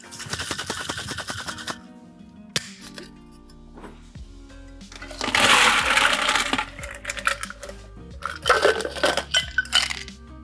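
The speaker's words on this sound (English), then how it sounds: "we've got egg white, so we want to give it a dry shake" Egg white and cocktail ingredients rattled in a metal cocktail shaker without ice, bursts of sloshing, clattering shaking after some metallic clinks and taps, close and fairly loud with no talking.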